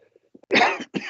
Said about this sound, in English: he just made me cough a bit